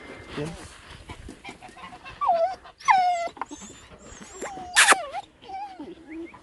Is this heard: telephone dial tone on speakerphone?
no